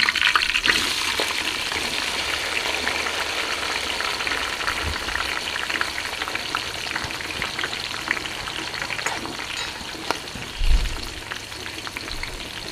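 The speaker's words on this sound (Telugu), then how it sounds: "తర్వాత ఉల్లిగడ్డ వేసుకుందాం." Onions fry in a pan for homemade egg dum biryani, giving a steady, bright sizzle that carries through the whole stretch, with a brief stirring thump near the end and no talking.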